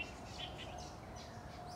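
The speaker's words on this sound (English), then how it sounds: "with all these trees and the birds singing to you the beautiful songs" Birds chirping and singing among trees in a natural outdoor setting, several short bright calls repeating across the moment, faint and somewhat distant with no talking.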